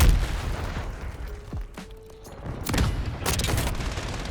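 Frag grenade explosion in Call of Duty, part of a sharp burst of booms and gunfire, loud near blasts alongside distant rumbling and scattered shots in a hardpoint match.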